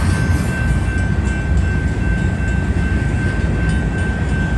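Union Pacific manifest freight train led by seven locomotives rolling slowly past Baseline Road, a steady, loud broadband rumble of wheels and engines with a faint high tone, continuous and unbroken throughout.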